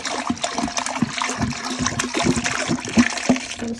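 Four gallons of room-temperature milk pour and splash into a large pot for homemade mozzarella, a steady, close liquid gush with irregular splatters and small knocks.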